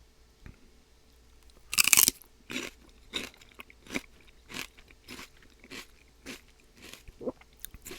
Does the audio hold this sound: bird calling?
no